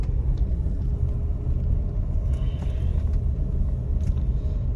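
A car drives along a road in Pakistan, heard from inside the cabin as a steady low rumble of engine and tyres, continuous and moderately loud, with no one speaking.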